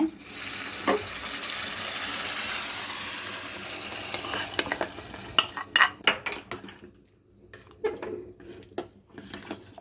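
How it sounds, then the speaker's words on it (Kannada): Onion and curry leaves hit hot oil in a tempering for alasande kalu saaru, giving a loud, hissing sizzle that gradually fades, followed by a run of sharp clinks and scrapes of a spoon against the pan. "ಈರುಳ್ಳಿ ಕರಿಬೇವಿನ ಸೊಪ್ಪು ಹಾಕ್ಕೊಳ್ತಾ ಇದ್ದೀನಿ"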